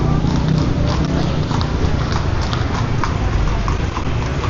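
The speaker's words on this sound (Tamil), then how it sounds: "குதிரை வண்டியில் போகிறாங்க." A horse-drawn carriage clip-clops along Malioboro Street in Yogyakarta, its hooves beating a steady, close rhythm over busy street noise.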